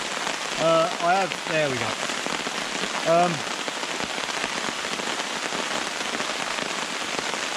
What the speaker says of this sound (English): Do like the sound of rain on the tarp